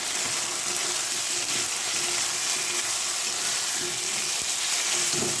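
Papaya and other vegetables frying in a spice masala give a continuous close sizzle, with a few soft stirring scrapes and no talking.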